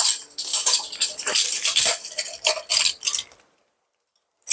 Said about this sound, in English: I'm going to grab my measuring spoons.